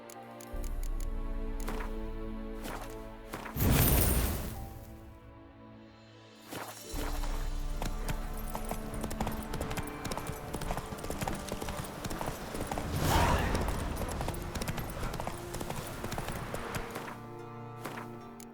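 Roach the horse galloping in The Witcher 3, rhythmic hoof clip-clops drumming steadily and close over a low game ambience, with a couple of louder surges partway through.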